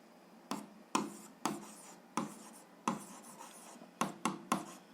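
Pen writing on paper while solving a 7th-grade algebra graph problem, a series of about ten close, crisp strokes and taps in uneven rhythm, quiet and without talk.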